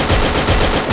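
Rapid, dense machine gun fire from a zombie video game rattles loudly and continuously with no pauses.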